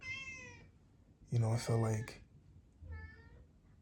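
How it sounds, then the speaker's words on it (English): A pet cat meows three times indoors, close and fairly quiet, the middle call longer and stronger, with a person speaking briefly between the meows. "that's my cat."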